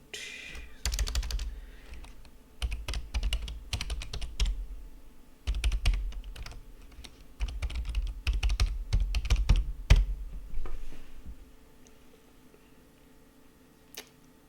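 An email address is typed on a computer keyboard in several bursts of rapid, close key clicks with short pauses, ending with a few isolated taps.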